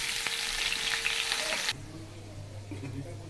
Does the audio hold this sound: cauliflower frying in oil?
yes